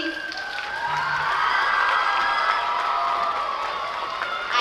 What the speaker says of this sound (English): I want for you to give another round of applause for all this staff, please